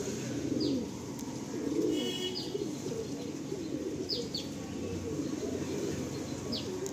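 Madrasi Andhra pigeons, rare males kept by a fancier in Garia, Kolkata, coo in low soft throaty rolls, while faint higher chirps from other birds flick in and out against a steady background hum.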